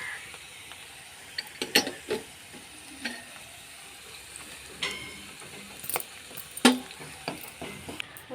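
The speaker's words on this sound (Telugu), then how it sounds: "ఉల్లిపాయ వేగింది కదండి" Onions frying in a pan with curry leaves, green chili, cumin and salt, a quiet sizzle broken by irregular clinks and scrapes of a spoon stirring against the pan, close and fairly loud at times, no speech.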